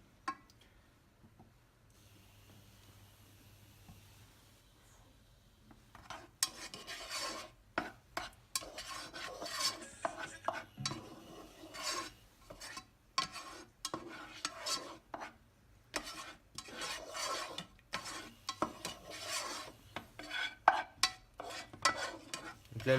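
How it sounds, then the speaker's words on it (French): Butter is stirred into an oyster sauce in a pan, a spoon scraping and clinking in irregular strokes after a quiet start, with a soft sizzle underneath and no talking. "Et ensuite, on monte le tout avec du beurre."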